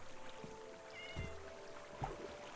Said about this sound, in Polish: I kotka.